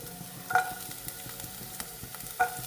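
Chopped garlic sizzles steadily in a hot pan while making a soya chunks and egg pepper roast, with a couple of sharp utensil clinks against the pan and no talking.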